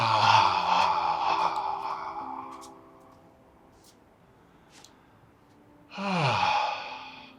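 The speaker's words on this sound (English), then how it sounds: "Let's take 3 more breaths together. And last breath." A slow, deep exhale during a qigong breathing class fades into quiet, and a second long breath follows a few seconds later, soft and close.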